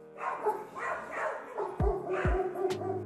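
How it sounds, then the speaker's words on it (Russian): Dogs bark in short, scattered yips and woofs at a moderate distance as they run around a puma in their yard, with faint voices and movement noise in the background. "обе его собаки бегают и лают вокруг пумы"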